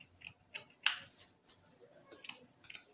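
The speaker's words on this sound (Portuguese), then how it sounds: "Ai, minha tesoura tá cega demais." Dull scissors snipping scraps of knit fabric offcuts, a few separate crisp cuts spread across a few seconds, one sharper and louder than the rest, close and alone with no talking.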